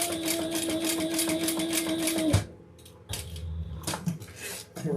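A home sewing machine stitches at a steady, fast, even rhythm for over two seconds, then stops abruptly, followed by quieter handling clatter and brief starts of motion.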